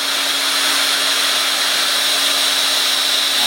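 A hot air plastic welding gun working with a welding rod gives off a loud, steady blowing hiss with a constant tonal hum underneath, continuous and close, with no speech.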